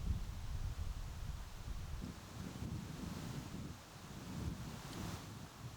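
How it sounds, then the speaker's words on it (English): Strong wind buffets the microphone outdoors, a constant low rumbling roar that swells and eases without pause. "hella windy out here."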